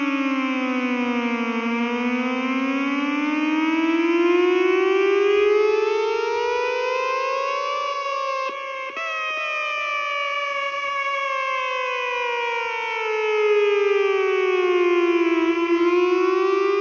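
A KORG monotron synthesizer mimics a tornado warning siren, its pitch sweeping slowly up and down in long wailing rises and falls, loud and steady throughout with a brief dip in the middle.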